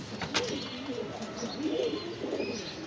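A pair of German Beauty pigeons at a loft coo softly in low, throaty, rolling phrases, faint and close, with a brief sharp rustle near the start.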